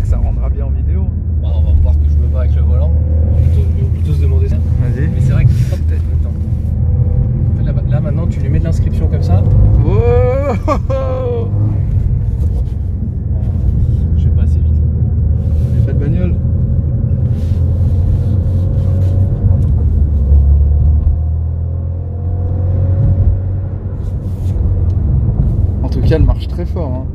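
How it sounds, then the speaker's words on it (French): Renault Mégane RS drifting, its engine a steady loud drone with a brief revving surge midway, heard from inside the car under continuous conversation among occupants. "il nous a fait un drift en Mégane RS, j'ai jamais vu ça"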